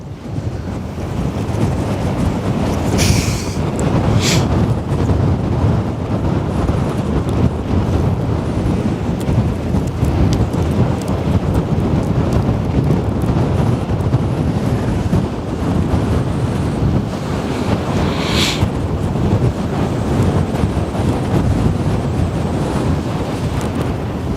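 Wind buffets an outdoor microphone at a ship-spotting spot on the Westerschelde in the Netherlands, a loud, constant low rumble running nonstop with a few brief crackling bursts.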